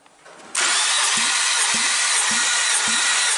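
A 1996 Audi A4 1.8-litre ADR engine cranks over during a compression test with a loud continuous whir after a quiet start, and four rhythmic low compression thumps pulse evenly beneath it.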